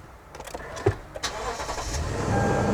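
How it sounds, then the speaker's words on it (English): A car is started after a battery harness repair: a few clicks and brief cranking bursts, then the engine catches and settles into a rising, steady idle. "Let's go ahead and start the vehicle and see if it starts."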